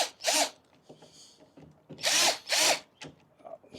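A cordless power drill drives screws into a carbon fiber part, with short close whirring bursts separated by pauses and a few faint clicks and handling noises.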